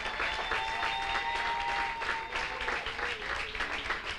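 A church congregation applauds together in sustained, even clapping that fills the room, with a few high tones and voices woven faintly underneath.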